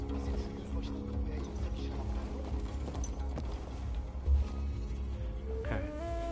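Rhythmic clip-clop of horse hooves at a steady gallop in Battlefield 1 on PS4, layered over game music and a constant low rumble, with a brief louder thump midway.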